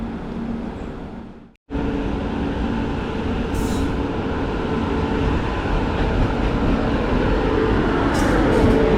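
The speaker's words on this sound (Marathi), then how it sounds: "फायनली मंडळी आपली ट्रेन आलेली आहे Jana de Express." A Jan Shatabdi Express pulls into a station, a loud continuous rumble of wheels and carriages rolling close by after a short lull, with faint squeals high above, no talking.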